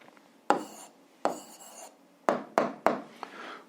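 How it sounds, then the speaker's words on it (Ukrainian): Pen or pencil writing on paper during an algebra exercise: a handful of short scratchy strokes, several separated by brief pauses, close and fairly quiet, with no talk. "Записуємо відповідь, пишемо відповідь."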